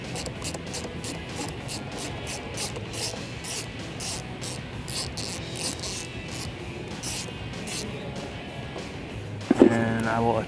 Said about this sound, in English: So I have a 10mm socket. I'm going to remove the nut on our battery terminal here.